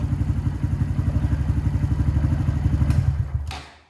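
A Honda Grom motorcycle engine idles close by with a steady, rapid thumping pulse, then is switched off and the chugging winds down into silence.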